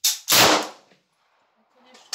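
A worn-barrel PM63 RAK submachine gun fires at a 50 m shooting range, giving one loud, sharp crack with a short decaying tail and then quiet. A second faint report follows near the end.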